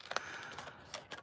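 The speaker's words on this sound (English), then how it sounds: "let's give this the world's quickest fussy cut" Scissors fussy-cut around a stamped paper card, giving a few quiet, crisp snips and clicks spread over about a second, with no voices.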